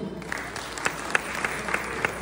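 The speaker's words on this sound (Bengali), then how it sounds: "সবার জন্যই একটা বড় হাততালি হয়ে যায়" An audience at a joint university Bengali New Year celebration in Jamaica, New York, claps in a brief burst of steady applause, moderately close with a few sharper individual claps standing out.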